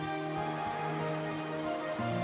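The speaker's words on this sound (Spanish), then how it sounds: "con el sonido silencioso del viento continuo y la lluvia" Steady rain and wind in the video game Umineko When They Cry, a continuous even hiss of falling rain under sustained background music tones.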